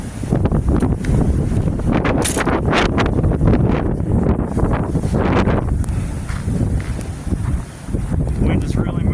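Strong wind blows outdoors during a Midwest snowstorm, a loud, steady roar with gusty rushes and microphone buffeting throughout, with no other sounds standing out.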